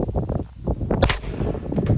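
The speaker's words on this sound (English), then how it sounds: "we're going to shoot that body armor with 9mm to show you it's stopping it" A single sharp 9mm gunshot strikes an RMA body armor plate at about one second in, a loud crack with a metallic clang riding over steady outdoor background noise.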